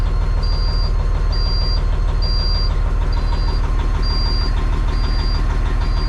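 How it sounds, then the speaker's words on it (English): A car engine idles steadily just after its first start, with several components not yet hooked up. The rumble is loud and even, and a high electronic beep repeats about once a second over it. "Let's just let her idle away and warm up."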